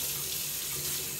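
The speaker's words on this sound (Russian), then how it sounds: "Ножик обязательно моем." A kitchen tap runs steadily at full flow while a knife used to cut up chicken is rinsed beneath it, giving a continuous close splashing hiss with no talk.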